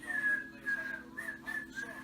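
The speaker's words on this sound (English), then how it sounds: "at the end you hear me whistling the Kill Bill whistle" A person whistles the Kill Bill whistle tune in short repeated phrases, a thin steady tone rising and falling, moderately close with faint background noise.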